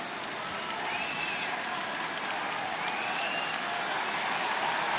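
A big baseball stadium crowd at a Braves vs Cubs game in the eighth inning, steady loud hollering and clapping that swells slightly and holds for the whole stretch, with faint whistles rising above the din.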